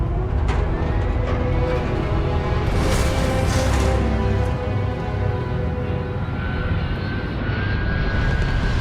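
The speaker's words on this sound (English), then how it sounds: "Thrusters firing." Spacecraft thrusters firing in the Starfield video game, a loud, sustained roaring rumble with a brief brighter hiss midway, steady throughout and free of talk.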